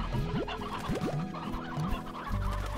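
Chickens in the video game Slime Rancher, a rock hen and a rooster, give soft, scattered clucks over a constant game soundtrack and background hum.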